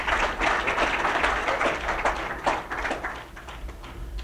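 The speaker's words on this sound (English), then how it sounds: "Give him a round of applause." An audience at a campus opening event applauds a presenter from the Palmdale Chamber of Commerce, with moderately loud, dense clapping throughout that gradually thins toward the end.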